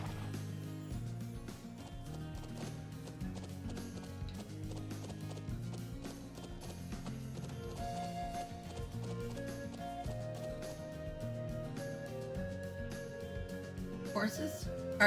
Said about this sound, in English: Horses? Are you saying we're to travel to the settlement on horseback?